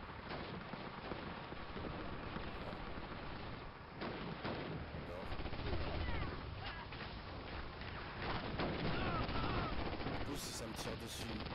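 Dense battlefield gunfire from the World War II shooter Call of Duty: United Offensive on PC, sustained rattling bursts and distant explosions forming a constant roar, with voices talking over it.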